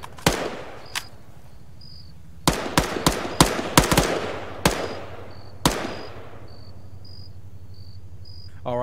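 Sharp gunshots ring out in Arma 3, some single and some in quick clusters of four or five, each with a ringing tail, over a steady chirp of crickets in the background.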